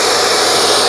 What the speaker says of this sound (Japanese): 無駄に力を使わなくて全然構わないので、ドライヤーの力のみで